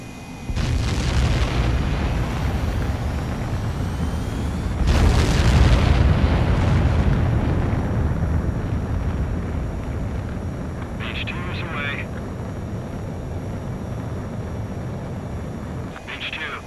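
A jet fighter in Ace Combat 7: Skies Unknown roars through takeoff, with loud bursts of engine thrust over a sustained rumble, while a radio voice talks over it.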